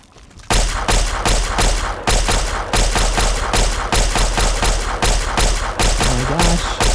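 Laser pistol fire in the game Fallout 3, a steady series of loud, sharp repeated shots at an even rhythm, each a dense burst, with a brief voice near the end.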